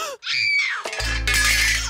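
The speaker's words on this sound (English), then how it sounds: "A young nurse screamed and dropped the bedpan she was holding." A young nurse in an audio drama gives a loud, sustained scream in a hospital room, followed by a clattering crash and ringing clang as metal tools hit the floor.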